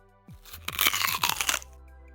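Crisp crunching bites, several quick crackly chews in a row, loud and close, then silence, with a low hum underneath.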